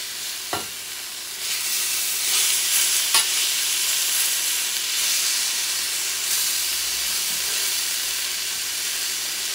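Kangaroo medallions fry in a hot pan with a steady, close sizzle and hiss, broken by a few sharp clicks and a brief bump.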